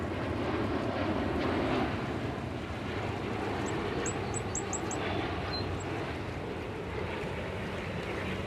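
An Iberia airliner arriving from Madrid rumbles in to land at JFK Airport, a steady, broad engine roar at moderate distance that holds throughout, with a few faint chirps high above.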